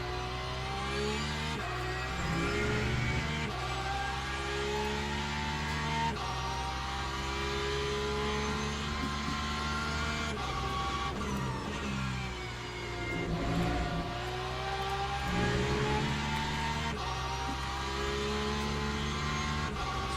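Race car engines scream and rev during a Le Mans Ultimate race at Imola, a Manthey Porsche chased by a BMW, with steady high-pitched engine notes rising and falling through gear changes and short breaks as cars brake and accelerate.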